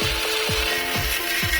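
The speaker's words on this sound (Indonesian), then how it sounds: "Ini kebetulan kita pakai gerinda tangan ya teman-teman" A handheld angle grinder cuts a perforated steel angle bar for a shelf, a loud continuous high-pitched whine with a regular rhythmic pulsing as the disc bites into the metal, no talking.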